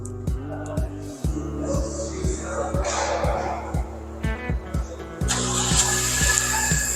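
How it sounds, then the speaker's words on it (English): A Honda Civic engine fires up by remote start, a repeating low pulsing hum holding steady nearby with brief higher clicks and a brighter lift near the end, with speech faintly underneath. "and there the car starts"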